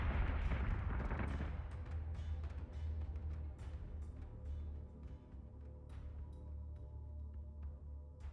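Capital ship weapons firing in Battlestar Galactica Deadlock, with a heavy, booming blast at the start that fades into a low rumble, followed by faint scattered impacts.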